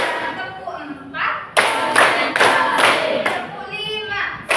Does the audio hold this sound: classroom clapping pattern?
yes